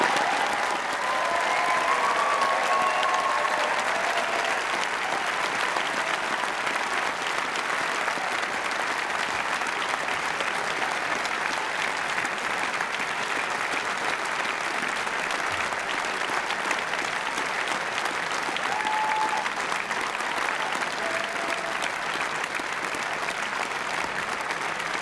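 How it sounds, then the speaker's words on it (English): Audience at a university graduation ceremony giving a sustained round of applause for new graduates, a dense, even roar of many hands filling a large hall for the whole stretch. "can I suggest we join in a rousing round of applause for all our new graduates?"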